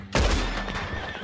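A horse neighs loudly and close in the Red Dead Western video game, a single strained whinny that rises abruptly and then fades out over about a second.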